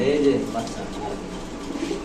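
Fancy pigeons, kept for sale with their chicks, give a low cooing near the start before it fades into a dim, busy background while people talk.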